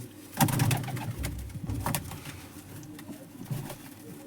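Pigeons coo softly nearby in low, throaty bursts, with a few rustles and faint background noise between the calls.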